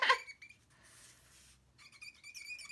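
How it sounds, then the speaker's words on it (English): An alcohol-based marker squeaks against paper while colouring a printed black and white photo, a faint close set of thin high squeaks in short bursts with quiet pauses between. "can you hear it squeaking?"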